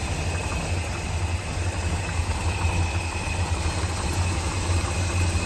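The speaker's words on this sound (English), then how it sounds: "It idles beautifully, as you can hear" A 1969 Plymouth Road Runner with a 383 V8 and Air Grabber idles steadily nearby, a smooth, even low rumble with no shakes or valve train clatter, heard alone without talk.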